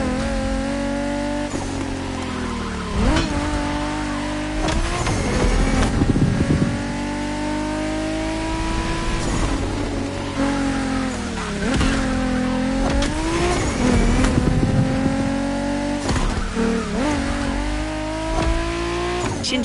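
Cars race in the video game The Crew Motorfest, with loud engines revving and droning, gear shifts, and bursts of tire squeal, all close and continuous.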